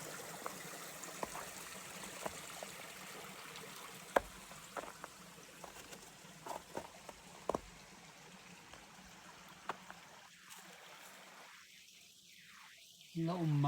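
Water trickles and flows quietly and continuously in a small snowy stream, faint and close, with occasional soft splashes and clicks and a louder rustle at the end.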